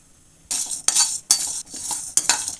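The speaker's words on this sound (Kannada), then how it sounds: "ಕಡಲೆ ಬೀಜ, ಕಡಲೆಬೇಳೆ, ಉದ್ದಿನಬೇಳೆ ಇಷ್ಟು ಹಾಕ್ಕೊಂಡು ಲೋ ಫ್ಲೇಮಲ್ಲಿ ಚೆನ್ನಾಗಿ ಹುರ್ಕೋಬೇಕು" Peanuts, chana dal and urad dal are dry-roasted over a low flame in a hot pan for bitter gourd sambar. Several bursts of dry rattling and scraping sound as the lentils and nuts are stirred, with short gaps between them.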